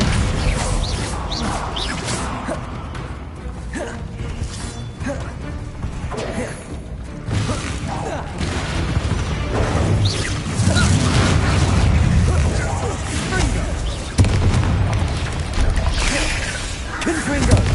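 Loud game combat in Hogwarts Legacy with booming spell impacts and crashing debris, including a Bombarda explosive blast, dense and continuous throughout with a heavy low rumble and a sharp burst near the end.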